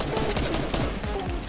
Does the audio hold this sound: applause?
no